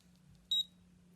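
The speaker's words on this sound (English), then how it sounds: "listen for the first beep when I run it across" A single short, high electronic beep from a COLOP e-mark handheld printer sounds once in an otherwise quiet room with a faint low hum.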